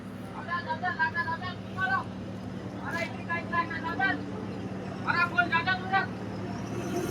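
A truck heavily loaded with sugar strains to climb a slope, its engine a steady low drone under a man's loud, continuous commentary.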